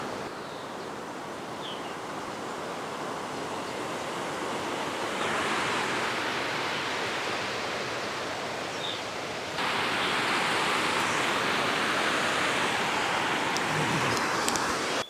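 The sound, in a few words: waterfall inside an old silver mine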